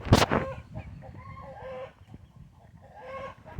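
Murray's Choice Layers chickens cluck and murmur in short calls nearby, opening with a loud brief bang, against a quiet outdoor background.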